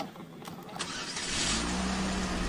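A vehicle engine cranks and catches in a driving video game, rising from a starter whir into a steady rumbling idle, close and loud with no voices.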